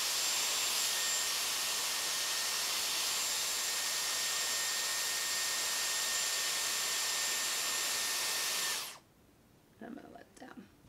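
Dyson Airwrap hair styler blowing hot air through long hair: a loud, steady broadband whoosh with a faint whine runs unbroken for about nine seconds, then cuts off abruptly, leaving near silence and a few soft handling sounds.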